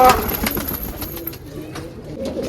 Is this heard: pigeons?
yes